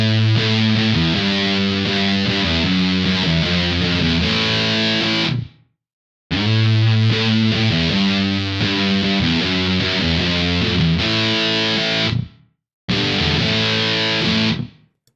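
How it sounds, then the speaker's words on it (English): An electric guitar plays through an Electro-Harmonix Big Muff fuzz pedal, producing thick, sustained, heavily distorted chords. Three long phrases are separated by brief silent gaps, loud and close, with no voice. "Here is the sound of the classic New York City Big Muff."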